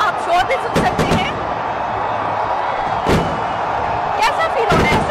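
Fireworks burst over a crowded Independence Day night celebration at Minar-e-Pakistan in Lahore, sharp bangs and thuds popping irregularly through a loud, constant crowd roar with voices talking nearby.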